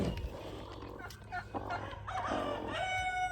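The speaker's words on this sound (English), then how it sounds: "I'm gonna show you all the hens." Hens cluck and call in short bursts, with a drawn-out crowing-like cry near the end, close by over faint background noise.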